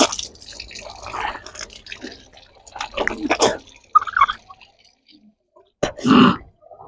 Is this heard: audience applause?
no